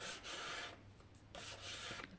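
Torn paper fibers being rubbed off a folded junk-journal file folder, heard as close, dry papery rubbing in two long bursts of rapid strokes with a brief pause between them.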